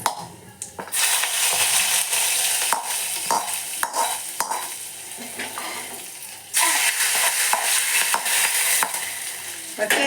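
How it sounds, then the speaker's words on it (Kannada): Spices and curry leaves splutter in hot oil for tempering an ivy gourd and green pea dry curry, loud crackling sizzle with repeated metal spoon clatters, briefly dipping before the frying surges again. "ಒಗ್ಗರಣೆ ಹಾಕೋಣ ನಾವು"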